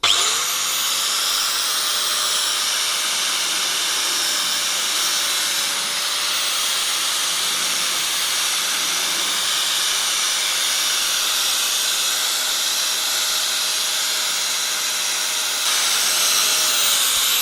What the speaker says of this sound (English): I'm using my grinder, and I've got a lovely Bit of sandpaper, a sandpaper disc on here, a nice sandpaper grinding disc